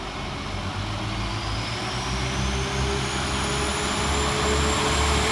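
Northern Class 195 diesel unit 195004 pulls away from Woodhouse railway station with a loud, steady engine roar and rising whine, close by and building slightly, no voices.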